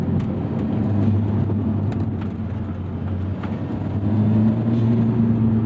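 A 2024 Lotus Emira Turbo sports car with an AMG four-cylinder engine driven hard, a steady engine drone heard from inside the cabin, rising slightly in pitch near the end with road rumble beneath.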